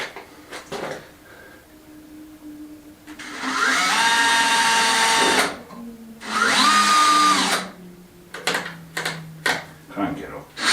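A power drill drives screws into reclaimed timber for a chunky farmhouse kitchen, two sustained whirring bursts of a few seconds each, separated and followed by clicks and handling knocks, with someone talking in between.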